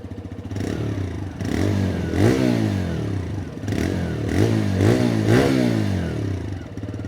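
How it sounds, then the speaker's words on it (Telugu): TVS Raider 125 motorcycle exhaust heard up close, idling then revved several times in repeated rising bursts with a deep, bassy tone and no talk. "నెక్స్ట్ ఇప్పుడు ఒకసారి ఎగ్జాస్ట్ సౌండ్ అయితే విందాం"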